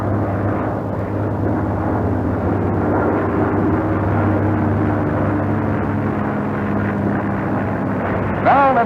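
A Grumman F6F Hellcat fighter's piston engine roars steadily through the takeoff run, a loud continuous drone with a low droning hum, while a narrator talks over it.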